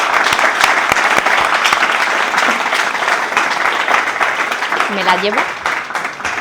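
Strong applause from an audience at a mystery-themed talk event, loud and sustained clapping throughout, with a brief voice speaking near the end.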